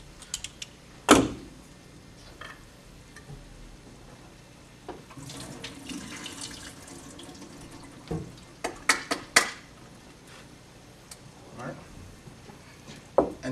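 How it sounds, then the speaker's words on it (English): Water from an opened can of green beans pours out into a sink, a splashing run with metallic clinks and knocks from the can, followed by scattered louder clanks, near and fairly faint. "we're just going to empty out the water that the green beans come in"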